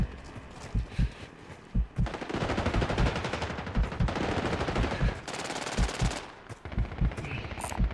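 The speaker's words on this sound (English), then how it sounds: "I'm under fire." Video game gunfire, with rapid machine-gun bursts and heavy single shots thumping at irregular intervals, loud and close, under faint radio-style voice callouts.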